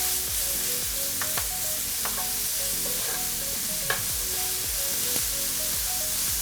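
Onion and curry leaves stirred in a hot pan for a Kerala-style spicy lobster roast: constant close sizzling with repeated scraping strokes of a spoon against the pan, no voices.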